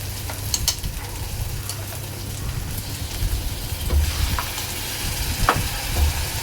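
Tomato paste hitting a frying masala paste in a pan, a steady crackling sizzle with stirring scrapes throughout, moderately loud and close, with no talking.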